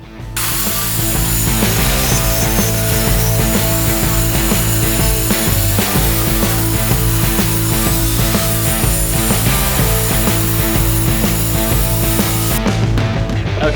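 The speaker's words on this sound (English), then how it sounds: "cut this out with the saw" A saw cuts steadily through a piece of scrap wood to shape a push stick, a loud continuous rasping with a rhythmic mechanical chatter that runs for most of the cut and stops abruptly near the end.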